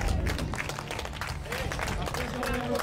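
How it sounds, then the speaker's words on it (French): A crowd at a blind football (cécifoot) match applauds both teams, a dense steady patter of clapping under an announcer's voice. "Un maximum d'applaudissements pour ces deux équipes qui disputent leur dernier match aujourd'hui."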